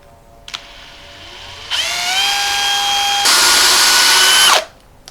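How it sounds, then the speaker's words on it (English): A power drill bores holes in a cabinet door: a close, loud whine spins up, rises in pitch, then jumps to a higher, harsher speed before cutting off, with a couple of faint clicks before and after. "I'm gonna attempt to drill all the holes on this side one time"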